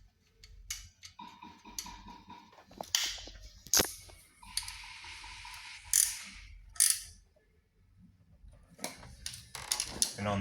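A ratchet tightens a nut on an engine motor mount during a 1.8T swap into a Mk3.5 Cabrio, giving sharp close clicking bursts scattered through the stretch with quiet gaps, and someone talks between them.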